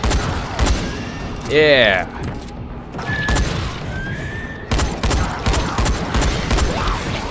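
Rapid gunfire at an enemy in the zombie game Dying Light, loud bursts of shots and impacts with a mechanical whine, while someone briefly speaks over the action.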